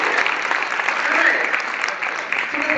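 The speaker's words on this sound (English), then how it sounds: "that was a hand clap" An audience claps together during a business presentation, a dense, steady wash of applause that holds for about three seconds with little change in level.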